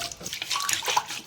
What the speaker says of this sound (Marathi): दही थोडंसं फेटल्याच्या नंतर थोडं पाणी घालून घेतलेलं आहे